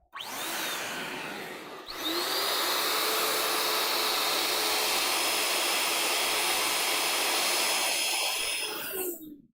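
Electric balloon inflator pump running loud and close with a steady whooshing motor roar, a brief dip near the start, then one long sustained run before cutting off.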